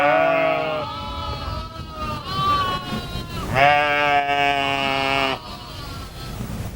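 A herd of sheep and goats grazed by nomadic herders on the Chinese Silk Road bleats clearly and loudly, several long, wavering calls overlapping and then pausing, with no talk.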